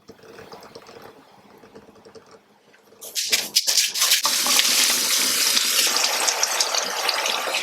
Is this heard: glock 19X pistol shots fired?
no